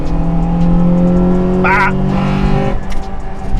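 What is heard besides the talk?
2001 Honda Integra Type-R engine revving into VTEC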